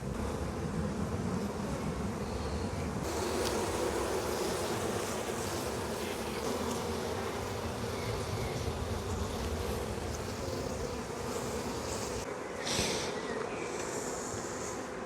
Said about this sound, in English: A little bridge of bees.